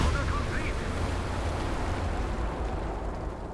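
A Borgward Wanze fires a rocket barrage in Company of Heroes 3, a dense, rumbling stretch of overlapping booms and crackle that stays steady throughout, with faint game ambience underneath.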